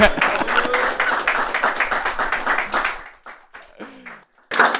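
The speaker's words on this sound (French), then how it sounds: "Ouais, on applaudit." An audience at a French stand-up comedy club claps and cheers for a comedian, a dense burst of applause that fades after about three seconds, followed by sparse talking with a brief swell of noise at the end.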